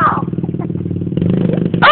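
Dirt bike engine revving close by in a steady rising drone, with a brief voice at the start and a sharp high squeal near the end.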